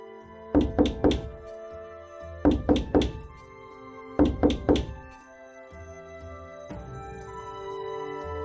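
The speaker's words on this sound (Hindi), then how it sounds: "सबसे पहले नीलेश हरीश के घर का दरवाजा खटखटाता है।" Knuckles rap on a house door in three separate bursts of about four firm knocks each, loud and close, with a soft sustained musical tone running underneath.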